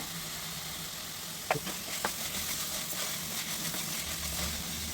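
Vegetables and potatoes fry in oil over a high flame, giving a steady background sizzle with a few sharp clicks and scrapes of stirring.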